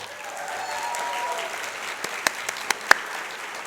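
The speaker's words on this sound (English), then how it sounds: "And again, a round of applause to our sponsor today," A conference audience applauds the day's sponsor at a general session: a steady wash of clapping from a large crowd, ending in a few louder, isolated claps near the close.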